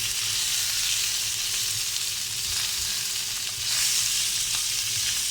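Salmon and trout frying in a pan, a loud continuous close sizzle with a steady bright hiss throughout, no talking.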